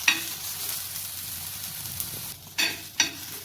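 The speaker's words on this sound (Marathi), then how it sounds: "आपल्याला हे छान लाल होईपर्यंत चांगले भाजून घ्यायचं आहे." Food dry-roasting in a pan until reddish for a no-masala black matki curry, with a steady soft crackle and a few louder scraping stirs near the end, no voices.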